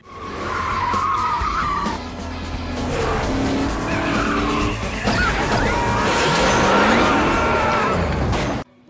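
In a film car chase, a car's tires squeal and skid in long screeching slides over a loud, revving engine, with crashing and roaring motion throughout.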